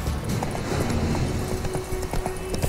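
Horse hooves galloping in The Witcher 3, a steady quick clip-clop rhythm close by, persisting through the whole moment over a low ambient bed.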